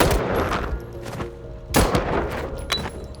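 Gunshots in a film scene where a man pulls a pistol on accomplices: a few loud sharp bangs with echoing tails, one heavy blast in the middle, over a busy soundtrack.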